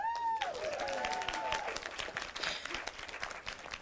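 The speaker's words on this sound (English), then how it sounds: "Now clap." An audience at a Tulsa City Council meeting claps steadily, a dense wash of applause at moderate distance, with a brief whistling tone at the start.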